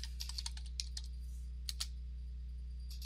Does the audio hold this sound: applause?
no